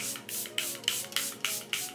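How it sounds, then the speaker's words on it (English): Several quick spritzes of Charlotte Tilbury Airbrush Setting Spray misted onto a face in a regular rhythm, each a short close hiss, about seven in two seconds. "I'm just going to set my face with the Charlotte Tilbury Airbrush Setting Spray"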